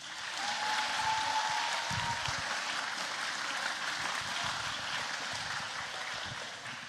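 Sustained applause from a middle school graduation ceremony audience welcoming the keynote speaker, a dense steady wash of clapping that fills the whole stretch with no talk over it.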